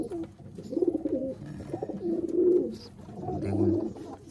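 A white Dobaj Mundi pigeon, an old-generation bird from an old bloodline of Madras-type pigeons, coos in low, throaty rolling phrases, close by and fairly loud, repeating several times over a few seconds with no talking.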